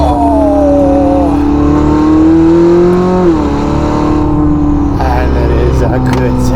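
A Novitec-tuned Ferrari SF90 Spider engine accelerates with a loud, close, rising whine that climbs in pitch, shifts and climbs again, while a person talks over it.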